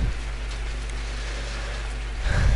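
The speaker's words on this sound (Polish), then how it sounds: "O, pada deszcz teraz." Steady rainfall in the video game Limbo, a dense even hiss with low rumble, continuous and fairly close, swelling slightly at the end.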